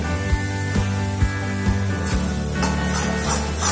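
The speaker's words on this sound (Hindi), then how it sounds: "हमारा ऑयल गर्म हो चुका है तो हम इसे बेसन काटे को रोस्ट कर लेते हैं।" A gram flour (besan) mixture sizzles and fries steadily in hot oil for a drumstick sabji, with soft scraping stirs at regular beats under the continuous close crackle.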